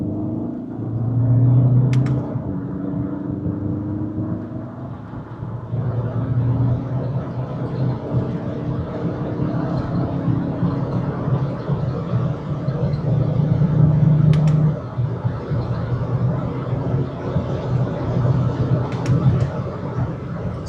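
Skoda Octavia 2.0 TDI diesel car accelerating, a steady low engine drone heard from inside the cabin, rising and easing slightly through the gears, with a couple of faint clicks.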